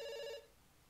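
A telephone rings in the video game Dr. Langeskov, The Tiger, and The Terribly Cursed Emerald: one short bright ring that cuts off after a fraction of a second, fairly faint, with no talking.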